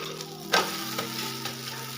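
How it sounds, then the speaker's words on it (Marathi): Poha thalipeeth frying in a pan as it is flipped, a steady close sizzle with a sharp clatter of the turn partway through. "मस्त असं वाफरलेलं आहे थालीपीठ। आता आपण पलटी करून घेऊया"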